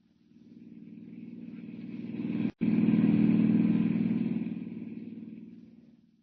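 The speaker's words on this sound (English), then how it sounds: "Hiring a car, Clark Kent heads out at once on the dusty road to San Miguel" A car drives along a dusty road in a 1940 radio drama sound effect: a mid-pitched motor swells up, cuts out for an instant, then hums on and slowly fades away, with no voices.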